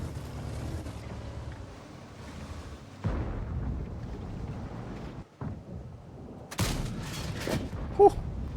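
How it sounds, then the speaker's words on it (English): In a tank video game with the Object 432U, loud booming gun blasts ring out amid rumbling engine and battle noise, with a sharp heavy shot and impact near the end. "Whew, the gun hit something."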